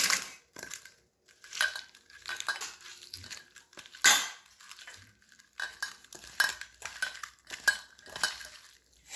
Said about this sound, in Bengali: আমি এবার টমেটো মাখাটা মেখে নেবো।